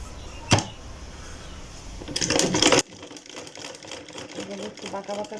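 A sewing machine stitches a salwar in one short, loud mechanical run that stops abruptly, followed by quieter clicks and handling noises.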